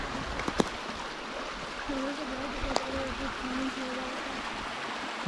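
Steady broadband rush of a flowing stream carving through avalanche snow, continuous and fairly close, with a faint voice murmuring underneath and a couple of sharp clicks.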